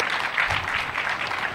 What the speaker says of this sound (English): Can we have a round of applause for our great speakers here?